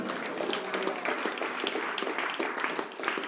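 A church congregation applauding during worship, dense steady clapping from many hands filling the room without a break, loud and close throughout.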